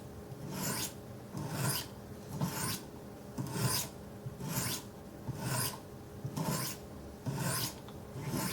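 Knife blade stroked on the 100 grit stones of a Wicked Edge sharpener, a steady rhythmic rasp of about ten light strokes roughly a second apart, close and moderately loud, with no talk.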